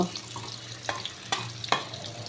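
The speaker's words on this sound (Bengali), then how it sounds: "দেখো, উচ্ছেগুলোকে ভাজা করছি" Bitter gourd pieces fry in a pan, a faint steady sizzle punctuated by three or four crisp scrapes of a spatula stirring them, close and without speech.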